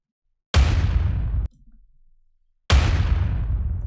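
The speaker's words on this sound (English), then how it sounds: "Impact explosion with a little bit of softening on these highs." Two heavy impact explosion hits used as sound design in a metal song mix, each a sudden loud boom with a long rumbling decay and softened highs, separated by a brief quiet gap with a faint low tone.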